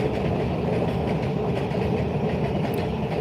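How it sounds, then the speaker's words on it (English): A passing train rolls by close and loud, a continuous rumble with faint clattering wheels that holds steady throughout, with no voices over it. "We have another train here coming."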